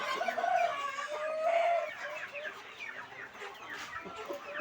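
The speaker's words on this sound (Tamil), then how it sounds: "இது ப்ரீடிங் சேவலுங்க." A breeding rooster of the Aseel, Kathikkal or Peruvidai country-fowl breeds crows and clucks close by, with other fowl calling throughout a busy farm yard.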